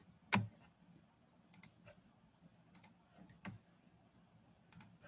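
Quiet, close computer mouse clicks, with several crisp clicks spaced a second or so apart, some in quick pairs, over a faint background hum and a couple of soft thumps.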